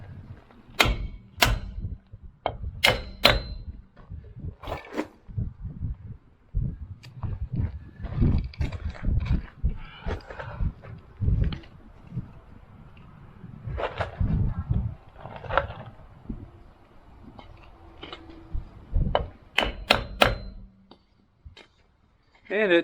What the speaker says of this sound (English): The instructions say to use a block of wood and a hammer.